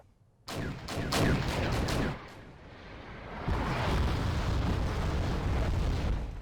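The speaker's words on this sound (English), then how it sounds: "while that artillery barrage is going on, let's get the infantry moving here" Heavy artillery barrage in the Wargame strategy game: a rapid cluster of loud booming blasts near the start, then a dense continuous rumble of overlapping explosions that swells again and stays loud to the end.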